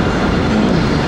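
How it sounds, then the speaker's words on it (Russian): A train runs through the city centre in Dubai, heard as a steady, close rumble of rail wheels and carriage noise with a faint squeal, continuous for the whole moment and without talk. "Поезда в центре города ездят."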